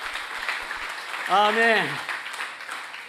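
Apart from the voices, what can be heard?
congregation applauding for God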